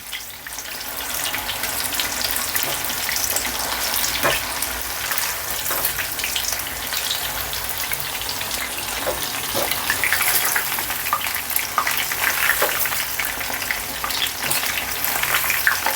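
Chicken kebab pakoda pieces fry in hot oil with a dense, continuous sizzle and bubbling, close and steady throughout with occasional sharper crackles.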